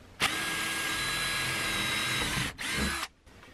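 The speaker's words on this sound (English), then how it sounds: "So right around here is where I'm gonna drill in." Power drill boring into the wall of a shed during solar wiring installation, a loud steady whine lasting over two seconds, a short pause, then another brief burst, close up.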